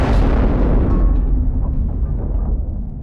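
A loud, rumbling explosion from a sci-fi film set in 2195, a deep booming blast that fills the low end and slowly decays over a few seconds, with no voices.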